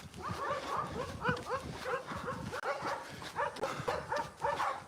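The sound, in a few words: dogs barking from backyards beside the trail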